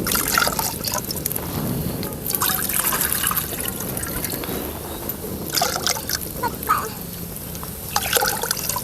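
Water splashes and trickles steadily into a container, a continuous liquid pour with some clatter, close by and fairly loud.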